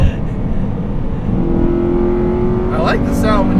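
A 2002 Honda Civic Si EP3 hatchback engine pulls at full throttle, a steady loud rising drone with a climbing tone partway through, heard from inside the car under a voice speaking.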